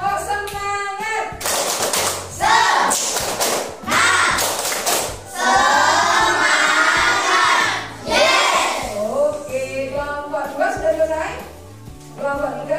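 A class group of teachers in training does rhythmic spirit clapping, loud bursts of clapping and thumping in patterned beats with shouted responses between them, near and energetic.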